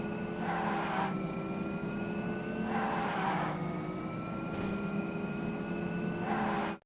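Vehicle driving and turning in a mobile driving game, a steady engine hum with tonal whine and periodic swelling bursts that recur every couple of seconds, moderately loud and without speech.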